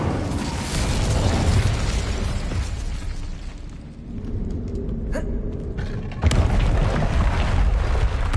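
A fiery Incendio spell cast in Hogwarts Legacy, a loud whooshing burst of flame that swells, thins out, then flares again with a sharp boom near the end.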